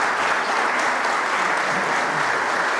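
Members of parliament applauding in a legislative chamber, a dense, steady wash of clapping that fills the whole clip at close range, with no pauses and no voices rising above it.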